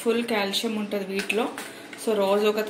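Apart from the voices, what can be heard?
None of the usual background noises is heard.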